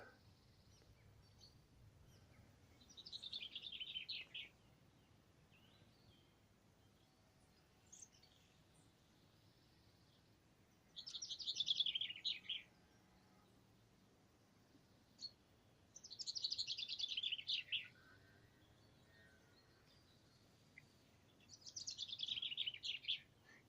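A bird sings outdoors in short, bright bursts of warbling song, four or five phrases separated by pauses, fairly faint against quiet open-air background.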